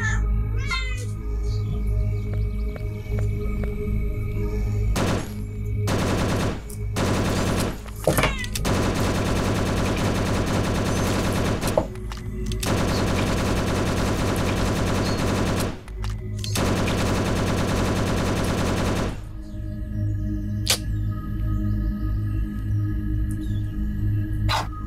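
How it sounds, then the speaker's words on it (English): Rapid bursts of automatic gunfire from the zombie survival shooter Last Hope Bunker, loud and dense, coming in long sustained volleys between short pauses. "It's probably going to be annoying for people who doesn't want to hear the shooting that loud."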